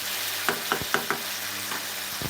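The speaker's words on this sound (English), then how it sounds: "Stir it a bit. Stir around like this. Stir everything around." Fresh mudfish frying in a pot, stirred with a utensil that knocks several times against the pot over a steady sizzle, close and moderately quiet, no talking.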